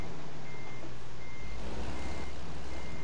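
A truck's reversing alarm in American Truck Simulator beeps steadily over a loud, constant diesel engine rumble, close and continuous with no voices.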